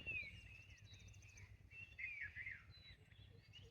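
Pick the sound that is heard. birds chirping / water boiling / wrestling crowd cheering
birds chirping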